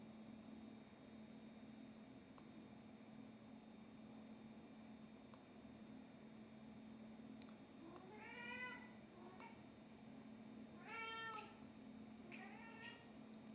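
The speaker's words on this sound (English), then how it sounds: "The cat's cried the whole video." A cat meows indoors, giving three drawn-out cries spaced a few seconds apart over a quiet, steady background hum.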